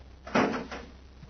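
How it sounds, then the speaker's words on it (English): A door shuts as a sound effect in an old radio drama: a single close thud with a short rattling tail, then quiet. "Shut the door and shove off."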